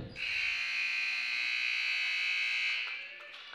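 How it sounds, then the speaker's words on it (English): A basketball game buzzer sounds at the end of a quarter of a girls' high school game. It is one loud, sustained electronic blare of about three seconds that cuts off sharply. "Reagan Rep right before the buzzer."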